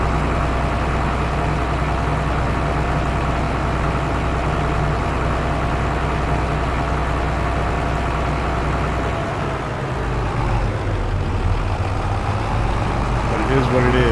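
Tractor engine in Farming Simulator 25 in Pichonnière Valley, a steady loud diesel drone running continuously with a brief dip partway through before resuming.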